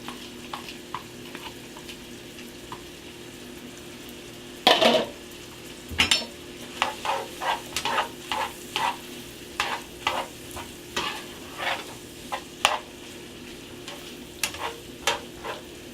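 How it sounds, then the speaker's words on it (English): Onion added to a pot of frijoles a la charra and stirred, repeated scraping strokes of a spoon against the pot over a soft, constant sizzle, close and without talk. "We're going to add our onion."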